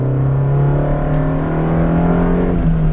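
Engine of a 1991 Honda Civic Si hatchback while driving, a steady loud drone with a slight rise in pitch and no talking, heard from inside the car.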